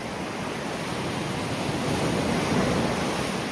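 Strong Black Sea waves roll onto a sandy beach at Chornomorsk, a loud, continuous hissing surf roar that swells slightly toward the end, with no voices.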